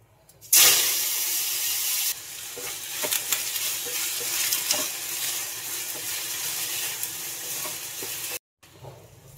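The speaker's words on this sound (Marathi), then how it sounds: "पटकन भाजीला फोडणी देऊन" A sudden loud sizzle as tempering spices hit hot oil for a vegetable curry, then steady crackling and hissing from the pan close by, cutting off abruptly near the end.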